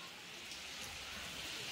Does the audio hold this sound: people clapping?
no